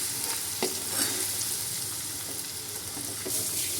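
Ginger-chili paste frying in hot oil in a home kitchen pan, giving a steady, fairly quiet hiss and crackle with a few soft utensil scrapes as it is stirred.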